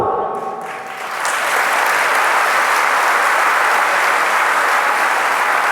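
An audience at a Jain monk's Hindi sermon in Ghatol, Rajasthan breaks into loud, sustained clapping right after a voice, a thick wash of many hands that holds steady to the end.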